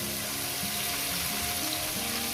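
Chicken pieces fry in a pan over high gas for a chicken curry, a continuous dense sizzle holding steady throughout with occasional louder crackles and spatters.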